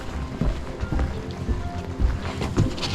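Wind gusts over a boat on a Norwegian fjord in a loud, continuous rush with uneven buffeting and splashy bursts.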